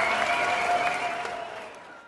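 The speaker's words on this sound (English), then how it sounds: "Round of applause for our guest today, Robin." Applause from a lunch audience for a guest speaker, a dense wash of clapping that starts full and tapers off toward the end, with a faint tonal hum running underneath.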